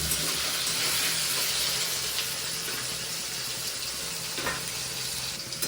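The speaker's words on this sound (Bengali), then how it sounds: "নুন দিয়ে হালকা মতো একটু ভাজা ভাজা করে নেব।" Potatoes frying with salt in a pan for a Bengali fish curry, a steady close hiss and sizzle of oil with a brief stirring scrape near the end.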